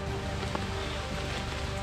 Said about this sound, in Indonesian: hujannya makin deras ya